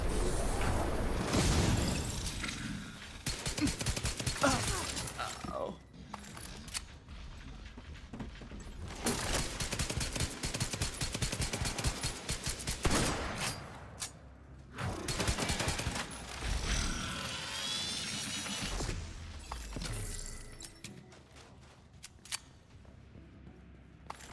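Gunfire in The Division video game crackles in repeated bursts of sharp shots separated by short pauses, fairly close and loud, with mechanical clicks between volleys and no clear talk.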